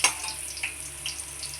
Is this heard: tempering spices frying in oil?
yes